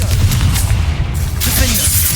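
Confringo fire spells cast in Hogwarts Legacy burst in heavy, booming blasts over dense rumbling combat noise, loud and close, with a brief bright crackle partway through.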